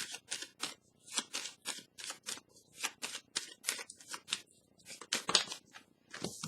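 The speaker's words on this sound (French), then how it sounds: "je vais piger une petite carte pour clarifier" Tarot cards being shuffled and drawn from a deck, a close run of crisp rapid flicks and riffles in quick bursts, with no talk.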